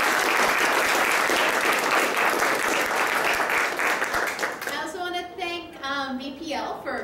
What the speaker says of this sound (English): let's give a big round of applause to Ben